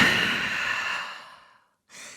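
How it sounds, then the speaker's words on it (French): A single long, deep exhale during a yoga vinyasa flow in downward-facing dog fades out slowly, followed after a short pause by the start of a fresh breath, close and breathy. "Et grande respiration en chien tête en bas."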